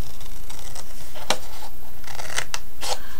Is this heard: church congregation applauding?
no